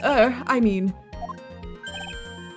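A telephone rings in Phoenix Wright: Ace Attorney, a bright electronic trill repeating in short bursts over quiet game music, right after someone speaks briefly.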